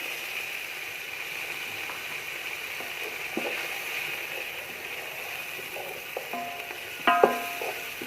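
Tomatoes and green chilies tipped into frying onions, a low steady sizzle with scattered clicks and scrapes and a sharper clatter near the end, no one speaking.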